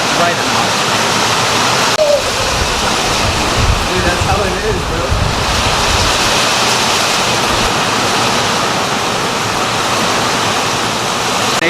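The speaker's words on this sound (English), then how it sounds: "It's starting to rain. As you can hear, it's pouring." Heavy rain pours down in a dense, continuous roar on a farm during a tornado warning, with a voice speaking briefly over it.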